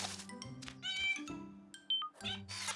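A cartoon kitten meows in short, bright cries amid a busy background of music and effects at a construction site, fairly faint overall with a few rising squeaks near the end.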